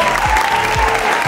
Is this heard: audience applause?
yes